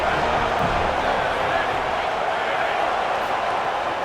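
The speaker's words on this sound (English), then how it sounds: "Man, this crowd really affecting the football game." Steady, dense crowd roar fills a college football video game stadium, a constant wash of noise with no breaks.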